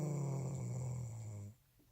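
A person snoring with a loud, low, droning tone lasting most of the stretch, then breaking off into quiet near the end, no talk over it.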